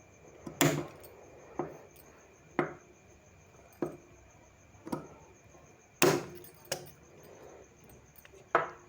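Stitched fabric cord is cut into pieces for a sleeve design, with a series of about ten sharp, crisp cutting snaps at a fairly even, unhurried rhythm, close up and clear against a quiet room.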